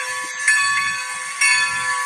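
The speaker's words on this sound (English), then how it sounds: "this is my favourite steam engine you got recorded" Strasbourg Railroad steam engine No. 90 gives off a steady steam hiss with a high whistle-like tone over low rumbling, swelling in two louder bursts, with no talking.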